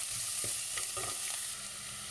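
Onion and tomato frying in oil in a pan for a flat bean curry, a continuous close sizzle with occasional stirring scrapes and clinks, no talking.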